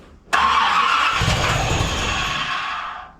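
A 1981 Corvette engine cranks and catches abruptly, then runs loudly and roughly close by, the roar settling slightly as it keeps running; no talk.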